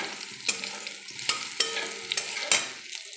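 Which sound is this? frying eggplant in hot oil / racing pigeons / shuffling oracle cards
frying eggplant in hot oil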